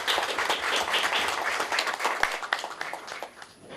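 An audience applauds to welcome the district governor at a Lions Club opening ceremony in Sicily, a dense, steady patter of many hands clapping that fades slightly toward the end.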